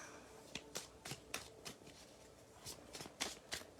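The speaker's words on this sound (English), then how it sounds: "I'll start shuffling." A deck of cards is shuffled up close in a series of quick crisp riffles and soft flutters, about a dozen short bursts at an uneven pace, quiet and alone with no talking.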